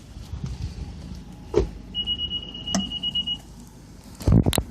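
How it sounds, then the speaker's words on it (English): Inside a 2014 Honda Civic Si, the fuel door release lever gives a few sharp clicks and a thunk, with a thin steady electronic chime sounding briefly in between. "push down on this little handle, and that releases the fuel door"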